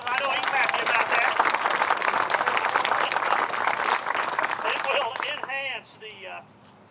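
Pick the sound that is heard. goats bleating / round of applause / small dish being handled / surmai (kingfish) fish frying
round of applause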